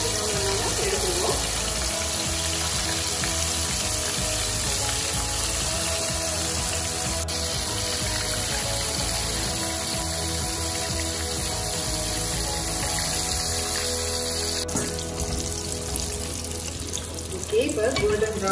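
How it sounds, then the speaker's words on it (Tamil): Fish pieces frying in hot oil until golden brown for a sweet and sour fish dish, a steady dense sizzle and crackle running the whole time under faint background noise. "இப்போ நான் அந்த மீனெல்லாம் இதல போட்டு கோல்டன் பிரவுன் கலர் வர வரைக்கும் நான் அதை நல்லா பொரிச்சுக்க போறேன்"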